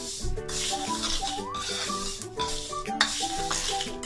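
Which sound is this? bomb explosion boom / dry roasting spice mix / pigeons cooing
dry roasting spice mix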